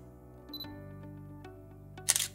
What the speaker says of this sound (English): you'll hear a little beep right before the picture is taken, letting you know that the camera has attained critical focus